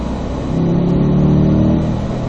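A Corvette accelerating out of a curve on a race track, its engine rising into a loud, close, sustained roar heard from inside the car with no voices over it.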